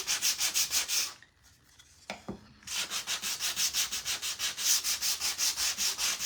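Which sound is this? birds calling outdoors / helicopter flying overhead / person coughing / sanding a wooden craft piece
sanding a wooden craft piece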